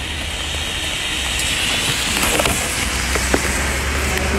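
Rain falls on a grey day in Üsküdar, heard as a loud steady hiss of wet street ambience with a low rumble beneath and a few brief sharper ticks, no speech.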